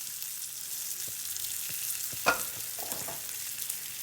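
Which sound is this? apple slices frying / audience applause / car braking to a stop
apple slices frying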